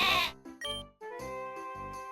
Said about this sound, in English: The sheep Pokemon we raise on the ranch, Woolo